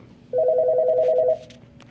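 A single electronic office desk phone ring, a warbling pulsed tone lasting about a second, heard clearly and close during a call transfer on a new phone system.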